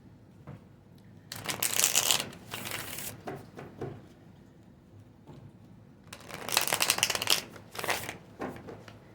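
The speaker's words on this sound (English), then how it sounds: "I don't like shuffling like that. It's a little bit too rough for me." Tarot cards are shuffled in two brisk, rough bursts of riffling and flapping, close and loud, separated by a quieter pause with light handling.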